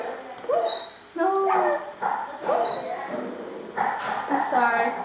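A dog in the Minecraft video game whimpers and gives short yips and barks in several bursts, fairly close, while a person talks over it.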